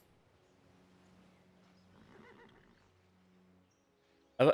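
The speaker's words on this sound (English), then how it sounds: "you get like there's horses there, so it made horse sounds" Horse whinny and neigh sounds from grazing horses in the Civilization V strategy game, soft and faint at first, ending with a sudden loud burst near the close.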